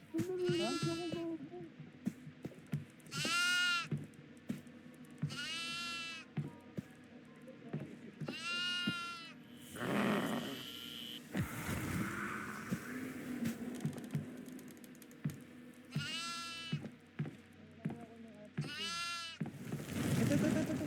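Repeated goat bleats in a horror video game, Devour, several wavering calls spaced a few seconds apart, with a bit of background rustling and game sounds between them.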